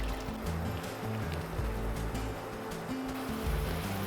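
About a cup of water pours into fully fried spice masala in a pan for Bengali fish kalia. It makes a steady, close rushing hiss that lasts the whole moment, with no voices.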